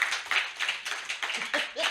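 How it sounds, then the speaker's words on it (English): Audience clapping for a panelist at a panel discussion, a dense burst of hands that pulses unevenly and fairly close, with some voices mixed in over the short stretch. "give him a hand of applause."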